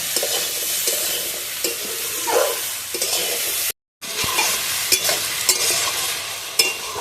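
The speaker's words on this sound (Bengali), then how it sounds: "এবার আমি ঝিঙেটা ভালোভাবে কষিয়ে নেব।" Ridge gourd and potatoes for a poppy-seed curry sautéed in a pan, a bright continuous sizzle with scraping stirs throughout and a brief silent gap midway.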